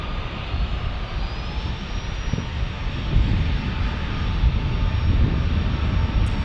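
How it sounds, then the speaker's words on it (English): A Boeing 767-300 freighter jet at San Diego airport, its engines giving a steady broadband roar that holds close and fairly loud throughout with a faint high whine, no voices over it. "This 767-300 freighter is going to El Paso."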